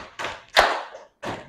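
A classroom of students doing a rhythmic single-clap exercise during an icebreaker: three short, dry group claps at an uneven pace, close by, with no talk.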